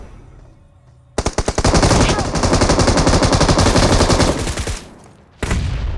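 Gunfire in a shooter video game, rapid automatic bursts that start abruptly, rattle loudly for about three seconds, stop, then break out again in another burst, with no talking over them.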